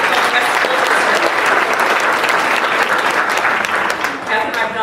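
A hall audience claps steadily at a school awards ceremony, a dense, loud applause that holds for several seconds before easing slightly near the end.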